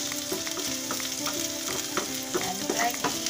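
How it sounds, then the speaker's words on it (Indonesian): Sliced shallots frying in a pan for a green chili tauco dish as they are stirred, with a constant crackling sizzle, repeated spatula scrapes and clinks, and a faint steady hum underneath, nearby and without talk. "Bawang merahnya masukin. Aduk sebentar"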